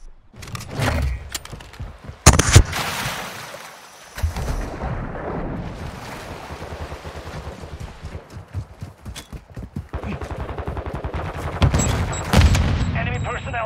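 Gunfire in a Call of Duty Modern Warfare 2 ranked Hardpoint match: dense bursts of rapid shots with a few louder, sharper bangs standing out near the start and end, continuing almost without pause.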